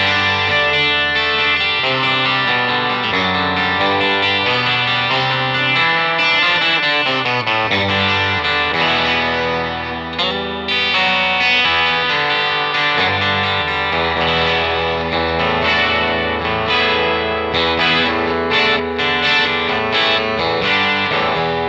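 A Ravenswood 12 solid-body electric 12-string guitar plays a continuous solo through its bridge pickup with effects. The tone is loud, jangly and bright, with distortion and chorus shimmer, and no talking over it.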